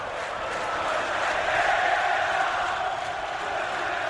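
Palmeiras supporters singing in the stands during a Corinthians–Palmeiras Campeonato Paulista 2008 match: a broad, steady crowd roar of distant massed voices, continuous and fairly even for a few seconds.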